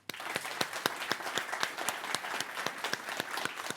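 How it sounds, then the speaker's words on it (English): An audience at a circular economy hub launch event applauds the speakers and panellists, steady sustained clapping from a modest crowd heard close. "And the final last round of applause for our speakers and panellists who made today's event a success"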